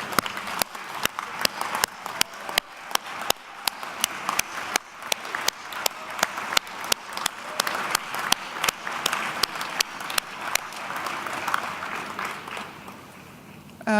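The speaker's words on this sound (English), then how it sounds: "give yourselves a round of applause" Alumni in a university commencement crowd clap for themselves, a dense patter of many hands that holds steady for the whole stretch and thins slightly near the end.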